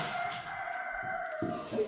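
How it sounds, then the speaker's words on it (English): A rooster crows from next door, a sustained harmonic call heard at a distance and moderate level over a low background hum, with no talking. "Why is there chicken next door?"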